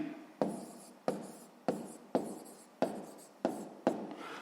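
Pen writing out a sixth-grade math answer by hand on paper, a series of about seven scratchy strokes at a steady rhythm, close and fairly quiet, with no voices.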